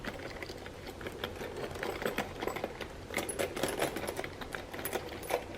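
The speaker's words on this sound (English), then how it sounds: "it jingles a lot. It makes quite a lot of sound when you're carrying it." A Louis Vuitton Utility Crossbody bag jingles as it is carried, giving a steady stream of faint metallic clinks and rattles from its hardware, close by with no talking.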